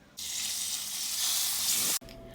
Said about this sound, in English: we're gonna go ahead and fry up the meat